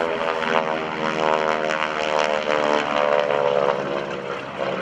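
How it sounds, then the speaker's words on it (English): A propeller airplane engine at a naval air station airshow growls steadily and loudly up close, a rough droning tone that holds throughout with slight surges. "But truly, Bill, we are hearing quite a growl from that engine."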